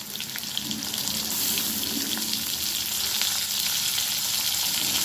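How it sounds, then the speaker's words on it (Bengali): Ginger-garlic paste hits hot oil over fried potatoes in a pan for a bottle gourd, potato and prawn curry, giving a loud, continuous close-up sizzle and hiss that runs unbroken with no one talking. "এবারে দিয়ে দিলাম আদা রসুন বাটা,"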